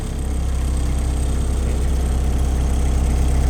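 A Shindaiwa DG259MI 25 kVA diesel engine generator runs at steady speed, a loud, close, low throbbing rumble with an even rapid pulse and no break.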